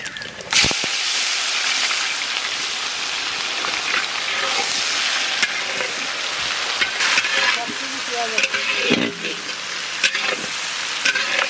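Onions frying in oil with bay leaf, whole cumin, whole coriander and garam masala for a village-style Bengali mutton curry, a loud continuous crackling sizzle with occasional stirring scrapes, up close throughout.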